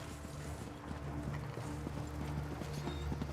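Horse hooves clip-clop in a steady, quick rhythm as a horse and wagon move along in Elder Scrolls Online, moderately near over a low ambient hum.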